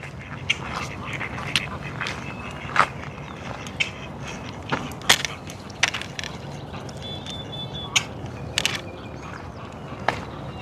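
Black ducks at a lake call out in scattered, fairly loud quacks and squawks over a steady outdoor background of water and ambient noise, with occasional other bird chirps.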